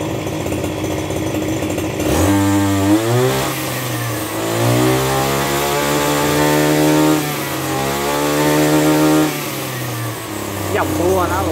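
A Maruyama BIGM BCS32 backpack brush cutter with a 32cc engine idles, then revs up to a high, steady whine and drops back to idle, running close and loud while someone talks over it.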